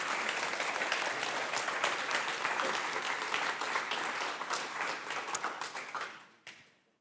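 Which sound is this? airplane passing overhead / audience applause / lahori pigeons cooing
audience applause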